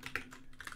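Computer keyboard keys tapped while writing Flutter code, a quick run of close, crisp clicks in an uneven rhythm, with no talking.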